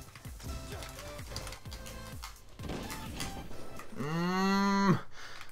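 A person imitates a cow's moo, a short drawn-out lowing near the end, heard over background sounds from a fast-paced online shooter trickshotting lobby.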